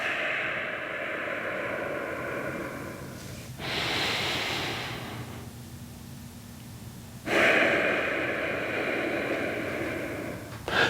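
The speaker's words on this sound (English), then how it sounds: "So deep breath in, and release." A person takes a deep breath in and releases it slowly during a back-pain stretching exercise, two long airy inhale and exhale cycles close to the microphone with no talking.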